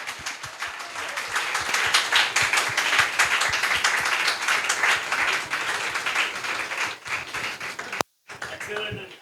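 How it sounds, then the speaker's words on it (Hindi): Loud applause for a guest at a memorial event: dense, steady clapping from a crowd sustained for about eight seconds, then a brief cut and a voice speaking over the end. "क्या बात है, जोरदार तालियां."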